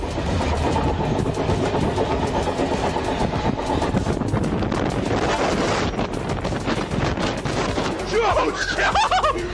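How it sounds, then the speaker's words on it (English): A loud, continuous roar of a train rushing past close by, buffeted by heavy wind noise, with voices briefly heard near the end. "another train swept past her"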